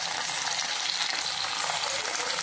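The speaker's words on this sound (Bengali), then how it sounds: "এটা ভালোভাবে ভেজে আমি তুলে নেব।" Fish roe fritters sizzling in hot oil in a pan for a Bengali curry, a dense, continuous, close hiss with no pauses.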